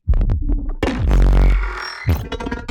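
Gritty, distorted Apex Legends game sounds: choppy bursts, then a long crunchy buzzing tone, then more short broken blips.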